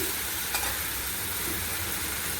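Tomato frying in a pan gives a steady, close, loud sizzle with a faint hiss and no break throughout.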